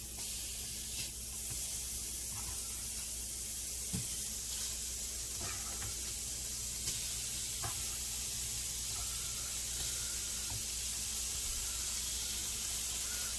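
Bacon sizzling in a hot pan, a steady close hiss and crackle with occasional sharper pops, running continuously for over thirteen seconds with no voices.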